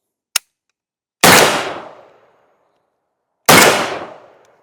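AK-style rifle test fired with a new gas system, a small click followed by two loud separate shots at close range, each with a long decaying echo and a pause between them.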